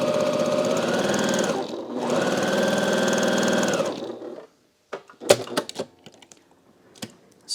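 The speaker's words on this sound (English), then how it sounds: "I am using a Bernina straight stitch machine, and I have it like a smidge under 2" Bernina straight stitch sewing machine running in two fast, steady bursts of rapid mechanical whirring with a short pause between them, followed by quiet clicks and fabric handling.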